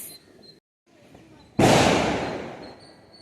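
A single loud Diwali firecracker bursts with a sharp crack followed by a long, fading rumble and crackle, after a brief quiet stretch of low background noise.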